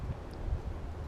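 Wind gusting across a camera microphone outdoors, a brief, close, low rumbling roar with uneven buffeting and no voices.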